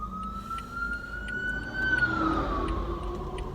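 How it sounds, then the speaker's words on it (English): A police siren wails at a distance, its tone rising slowly and then falling, over a low steady traffic rumble. "There's an ambulance coming, so, oh, it's a cop car."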